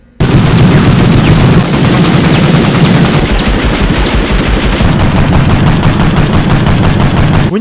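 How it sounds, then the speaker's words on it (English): German weapons firing in the video game Medal of Honor: loud, dense bursts of rapid automatic gunfire, continuous and punchy with heavy low-end booms, no voices. "The weapon sound in this game could put any modern shooter to shame."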